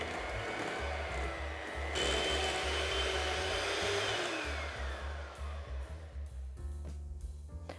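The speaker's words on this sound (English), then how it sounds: "I'm going to mix this on a low speed until it's combined" An electric mixer whirs steadily on low speed, blending sugar and plain flour for a baked cheesecake, a constant motor hum with a slight shift in pitch partway through before it slows and stops with faint clinks.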